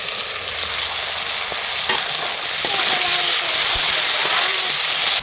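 Flat beans frying in hot oil in a pan, a constant close sizzle with stirring scrapes and clinks, growing slightly louder toward the end.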